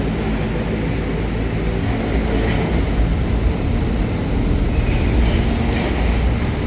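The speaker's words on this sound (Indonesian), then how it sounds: "ini lokomotif yang keempat sudah mundur ya" Diesel railway locomotive, one of four transferred from Sumatra, reversing slowly at a port container terminal at Tanjung Priok; a steady, loud low engine rumble and rolling noise continues throughout without speech.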